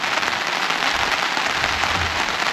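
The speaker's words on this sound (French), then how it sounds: "la pluie vient de pogner solide" Heavy rain pouring down at a campsite in the woods, a dense, steady hiss of drops drumming on surfaces, close and constant with no voices.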